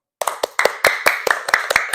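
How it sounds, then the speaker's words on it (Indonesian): Students in a classroom clap together in a brief burst of applause, with about nine sharp, evenly spaced hand claps following a moment of silence. "Beri tepuk tangan dulu."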